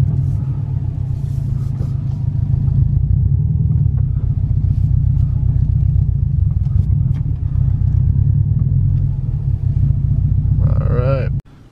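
A big-turbo Subaru WRX idles and creeps into a driveway, a loud steady low engine rumble running close throughout before cutting off abruptly near the end.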